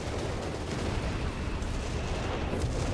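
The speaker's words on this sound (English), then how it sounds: "More artillery." Dense, rumbling artillery fire in the strategy game Company of Heroes 3, a continuous close barrage of booming blasts that blur together into a heavy roar without clear gaps.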